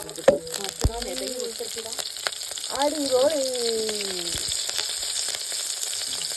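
Cumin seeds and small kanthari bird's-eye chilies sizzle in hot oil in a pan, with a steady frying hiss, a few sharp clinks at the start and a brief stir midway.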